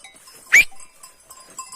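A single sheep bleats once, brief and fairly clear, against a quiet open-air mountain pasture background with faint distant sounds.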